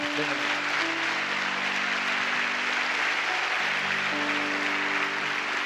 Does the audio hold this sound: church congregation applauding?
yes